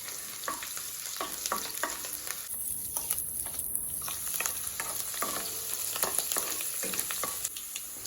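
Garlic sizzling steadily in hot oil as it is sautéed for a Tamil-style tomato pickle, a continuous close crackle with small spatters and occasional stirring scrapes, no voices.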